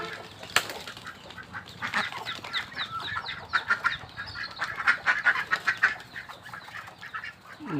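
Farmyard ducks quack in a busy, overlapping chorus, with a rooster or hen joining in. The calls come close and loud in irregular bursts, and no one speaks.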